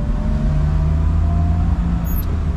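A Maruti Omni's engine hums steadily from inside the cabin while the driver shifts into third gear and picks up a little speed, a loud continuous drone with no talking.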